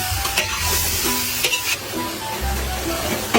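Vegetables stew and sizzle in a pan for coconut-milk ginataang gulay, with steady frying crackle, a few stirring clatters and no talk.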